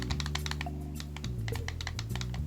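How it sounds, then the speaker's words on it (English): Buttons on a Retro-Bit wireless Saturn controller clicking in quick, close, crisp taps, irregular and fairly steady throughout, with no talking. "So it is clicking, but it doesn't quite sound like the micro switches used in the original Saturn controller."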